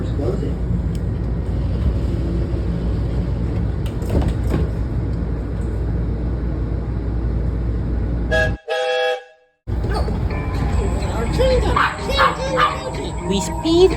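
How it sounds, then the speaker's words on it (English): A dog barks for attention aboard a Washington Metro train as it speeds into a tunnel, with sharp barks rising over steady rumbling train noise, a brief dropout midway, then screeching wheel and track sounds. "We speed into the tunnel as Tank barks for Naheem's attention"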